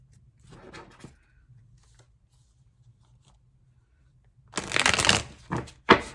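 Tarot cards shuffle in quick riffling bursts, a soft one early on and louder, closer riffles near the end, with quiet pauses between.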